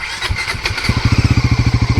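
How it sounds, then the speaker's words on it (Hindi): A Bajaj Pulsar NS 400Z motorcycle engine starts up, with a brief crank and then a loud, close, rapid pulsing idle that settles into a steady rhythm. "तो जब भी मैं बाइक स्टार्ट करता हूँ ना गाइस,"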